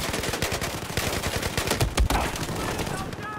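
Rapid bursts of gunfire ring out in Battlefield 4 multiplayer on Xbox One, dense repeated cracks with a few heavier impacts in the middle and ongoing game noise underneath.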